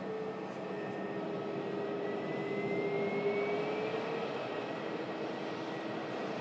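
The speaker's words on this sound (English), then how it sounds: "Logan Air touching down there" A Logan Air aircraft touches down, its engines producing a steady, distant roar with a thin whine that slowly bends in pitch. The sound stays moderate and even throughout, with no voices.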